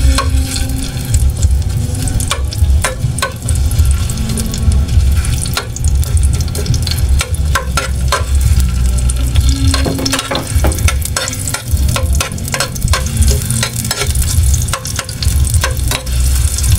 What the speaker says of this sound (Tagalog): Igisa na muna natin yung ating ricado. Ayan. Unahin natin yung luya.